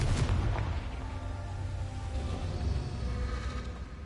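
Confringo blasting spell in Hogwarts Legacy, a heavy booming blast at the start followed by a rumbling low roar that fades slowly over several seconds, with no voices.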